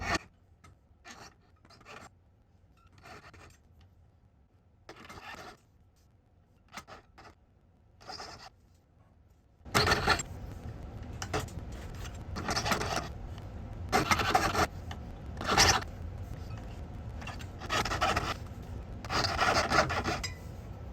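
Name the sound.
saw cutting parallel slots in silver ring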